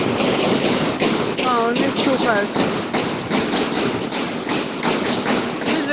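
Knocking by a group of young men walking near Mariinskyi Park in Kyiv: several dull, close thuds and taps scattered through the clip, mixed with loud, busy talk and street noise.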